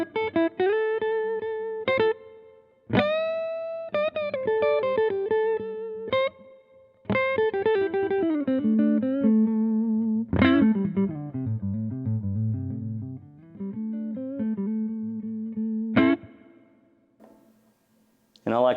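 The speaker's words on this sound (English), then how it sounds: "Here's the amp with reverb." Electric guitar played through a Devilcat Mean Jean amplifier with an Accutronic spring reverb tank, ringing chords and single-note phrases with a distinct reverb tail, loud and close with no talking.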